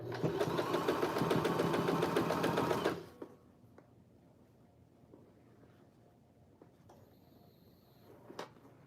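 A Janome sewing machine stitches in a loud, fast, steady mechanical run for about three seconds, then stops, leaving quiet room tone with a few faint clicks.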